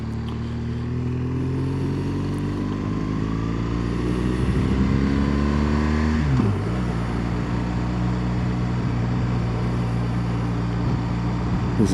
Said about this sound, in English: There's a sporty something coming towards us. A wee lotus.